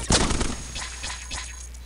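Gatling lasers fire in the sci-fi robot game Cogmind: a loud opening blast followed by a rapid stutter of shots that fades into quieter repeated bursts.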